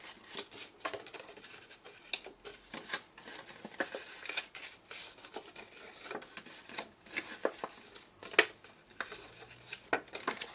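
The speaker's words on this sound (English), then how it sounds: "We just need to cut those out completely, because you don't need to stick down the sides or anything like that, so just cut them off." Scissors snipping small squares out of card for a punch-board treat pouch, a quiet run of crisp, irregular clips and paper rustles spread across the whole stretch, close by and faint.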